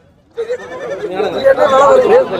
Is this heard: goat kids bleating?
yes